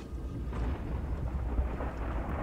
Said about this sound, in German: Oh, das Gewitter.